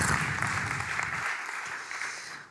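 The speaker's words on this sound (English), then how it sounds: "An applause for Anne Miltenburg." Applause for a speaker at a Dutch graphic design talk, a steady wash of many hands at moderate level that slowly fades away toward the end.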